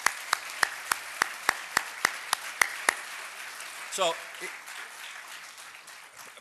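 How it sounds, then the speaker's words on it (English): Sparse, evenly spaced claps ring out about ten times at a conference in thanks to the staff, sharp and distinct, then fade as a voice begins speaking. "Maybe we give them a little round of applause for their hard work."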